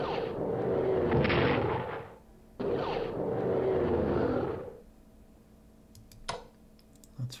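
Rocket strikes on Bristol in a strategy video game: two long, loud rumbling blasts back to back, each lasting about two seconds, followed by quieter, sharper clicks and thuds, with no talking.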